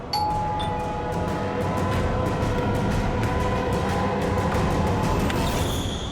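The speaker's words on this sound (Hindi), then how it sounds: "घंटी सुनाई नहीं देती क्या?" A doorbell chime rings near the start, then a steady patter of sharp knocks or taps continues over a constant background hum.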